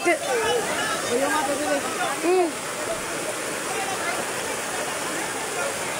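Heavy floodwater rushes in a continuous loud wash around a Hilux vehicle, while excited voices talk and exclaim over it throughout.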